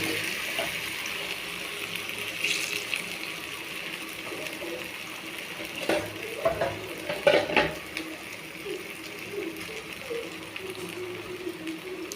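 Marinated green chicken frying in hot oil, a continuous crackling sizzle with scattered spatula scrapes and stirring knocks, fairly close and steady.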